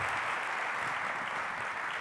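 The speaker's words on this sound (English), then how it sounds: "Let's all give a big round of applause for Kate Macerich." A conference audience at Scottsdale Forward 2022 applauds Kate Macerich, a steady wash of clapping heard faintly at a distance, continuous and even, with no voices over it.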